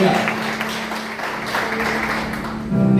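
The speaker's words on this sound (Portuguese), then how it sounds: "Dê uma salva de palmas aplaudindo o nome de Jesus." A church congregation at a Portuguese-language midday prayer service bursts into applause, a dense wash of clapping at close range that swells again near the end, mixed with voices.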